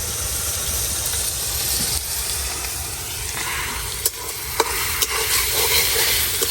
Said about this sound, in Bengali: সুন্দর করে ভাজে নিয়াম।